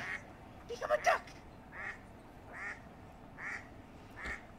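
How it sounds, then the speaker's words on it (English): Ducks quacking in the Minecraft video game, a short cluster of quacks followed by four more spaced, moderately loud calls at an even rhythm, with no talk over them. "Dad, look, there's ducks."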